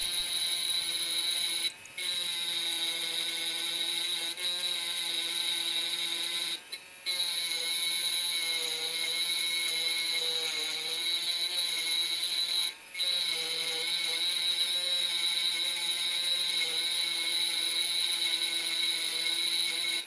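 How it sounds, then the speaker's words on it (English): An electric drill with a diamond tip engraves glass, a steady high-pitched whine and buzz running continuously with a few brief breaks, close and moderately loud. "We use an electric drill and a diamond tip to engrave the glass."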